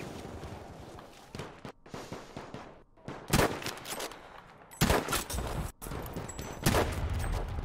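Gunfire in the Battlefield V beta: several loud, sharp shots and bursts ring out close by at irregular intervals, some isolated and some clustered, with shuffling movement and scattered battlefield noise filling the gaps between them.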